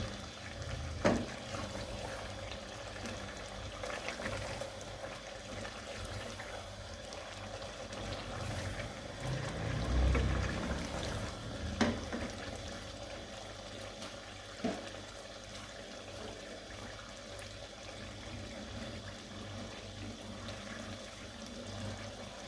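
Water is poured into a pot of pea and chicken curry, giving a soft running, splashing liquid sound against a quiet kitchen background, with a few faint knocks and no talking.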